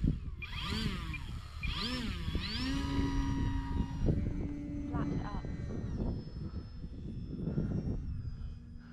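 An OMP Bighorn RC airplane engine whines through rising and falling pitch sweeps as the plane comes in to land on grass, then settles to a steadier, fainter drone; someone talks over it.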